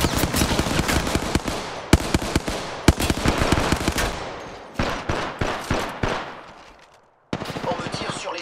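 Rapid bursts of automatic gunfire in a shooter video game, dense and loud, with a brief lull near the end before the shooting resumes.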